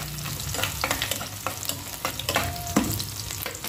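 Garlic sautéing in hot oil in a pan: a continuous crackling sizzle broken by repeated sharp scraping stirs at a brisk, uneven pace, close and clear, without speech.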